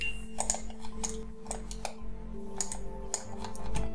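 Computer keyboard clicks, including space bar presses, tap out at an irregular pace over a steady low hum while modelling a sloping kerb and pavement in Archicad, close and moderately quiet.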